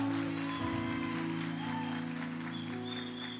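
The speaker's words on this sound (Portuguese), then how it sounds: "Dá um aplauso para ela, irmão." Church congregation applauding during a service, a moderate wash of clapping that runs under sustained organ or keyboard chords and faint voices, fairly even throughout.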